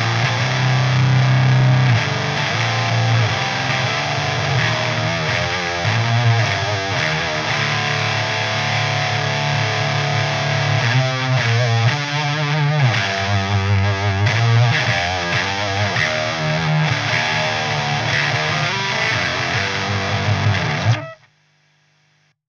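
Heavily distorted electric guitar through a Boss HM2 pedal with doubled gain into a Laboga amp, very loud with sustained buzzing chords and chugging riffs for about twenty seconds, then cut off abruptly.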